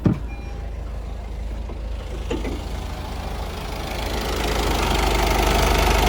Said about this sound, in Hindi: एक बार हम बाहर से भी इस कार की इंजन नॉइस सुनते हैं